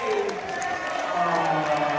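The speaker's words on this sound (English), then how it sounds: "a round of applause one more time for Henry's mother, Jennifer Shea" Wedding guests give a round of applause for the groom's mother, a continuous wash of clapping and crowd cheering at moderate volume, with music or voices faintly underneath.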